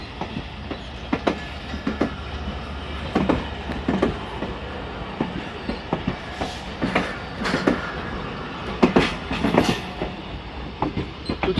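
Train pulling away toward Karachi, its wagons clattering steadily over rail joints with rhythmic clicks, heard at moderate distance, no speech.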